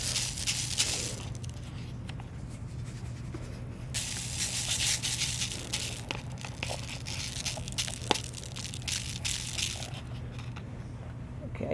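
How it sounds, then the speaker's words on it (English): Tiny glass beads pour and patter into a lightweight styrofoam cup, a dense crackling hiss rising and falling in waves for several seconds. "I'm going to pour the glass beads into this"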